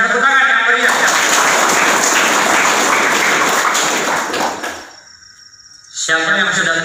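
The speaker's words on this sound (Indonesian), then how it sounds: "Luar biasa, tepuk tangan yang meriah." Students clapping in a classroom during a Scout (Pramuka) lesson at a junior high school, a loud burst of group clapping that fades out, with voices speaking before and after.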